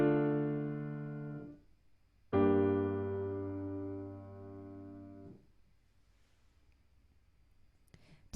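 Two sustained four-voice chords played one after the other, the first held about a second and a half and the second, a resolving chord, ringing for about three seconds before fading to quiet.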